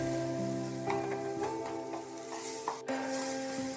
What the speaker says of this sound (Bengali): বাটারটা পুরোপুরি মেল্ট হয়ে গেলে দিয়ে দিতে হবে ক্যাপসিকাম আর বেল পেপারগুলো। দু 3 মিনিট একটু ভালোভাবে নাড়াচাড়া করে নিতে হবে।